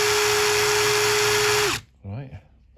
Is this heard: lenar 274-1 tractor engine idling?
no